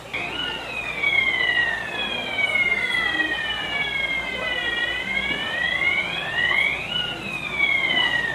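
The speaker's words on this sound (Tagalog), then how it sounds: "Ang tagal nung, ano, nung alarm na sinasabi ni Ate Mari." A fire alarm siren sounds continuously, its wailing tone sweeping up and down over about eight seconds, loud and steady against a faint background murmur.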